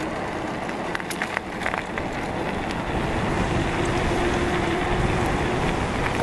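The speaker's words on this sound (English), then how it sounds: "Now that wind is really kicking over here, guys." Wind buffeting the microphone while riding an Asomtom RV3 eBike into a strong headwind, a loud, steady broadband roar and rumble that holds for the whole stretch with no talking.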